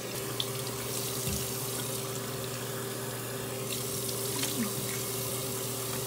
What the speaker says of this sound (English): I'm gonna wet my face with a little warm water